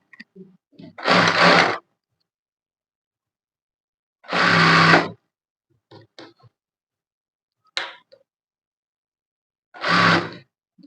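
Sewing machine stitching the lining edge of a skirt: four short whirring bursts about a second each, separated by quiet gaps with faint handling clicks, close, no talk.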